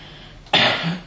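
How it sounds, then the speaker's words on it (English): A single short cough, close and abrupt, after a moment of quiet room tone. "I'm gonna cough."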